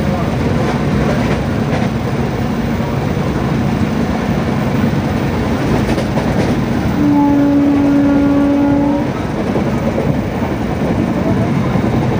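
A passenger train runs with a loud, steady rumble heard from inside a crowded unreserved carriage. A brief tonal whine or horn rises over the din partway through.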